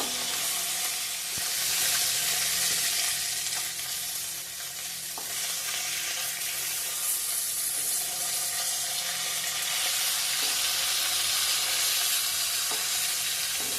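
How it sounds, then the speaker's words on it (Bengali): Fish frying in hot oil in a home kitchen, a steady loud sizzle running throughout with occasional stirring scrapes and clinks, and no voices. "মাছগুলো উঠে পাল্টে দিয়েছি ভালো করে ভেজে নেব"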